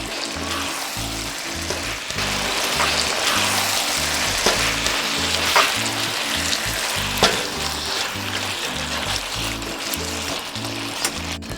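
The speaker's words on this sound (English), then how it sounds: "you want to slightly stir in your ackee just to let the ackee get all of that seasoned goodness" Jamaican ackee and saltfish fries in a pan while being stirred, giving a loud, continuous sizzle broken by repeated scraping and clattering strokes.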